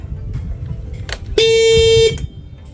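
A parked motorcycle's anti-theft alarm blasts its horn in one long, very loud steady tone lasting under a second, cutting through quiet background noise before stopping abruptly.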